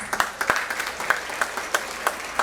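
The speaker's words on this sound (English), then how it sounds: "kids, clap for your parents" Students in an auditorium at a school spring band concert clap for their parents, a moderate crowd patter with individual sharp claps popping out at a steady rhythm, no talking over it.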